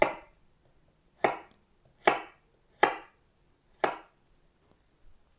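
Five sharp knife chops through garlic strike a cutting board at an uneven, unhurried pace, close and clear, with quiet between each cut.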